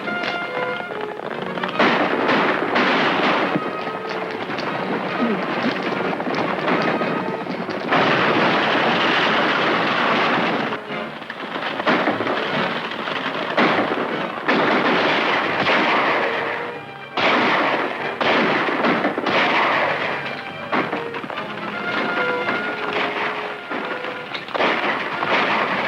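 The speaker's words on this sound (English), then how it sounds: "Whoever's doing that shooting is helping us." Gunfire from a 1941 western film: dense, continuous volleys of loud shots and reports overlapping into a heavy roar, with brief lulls, sustained for nearly half a minute.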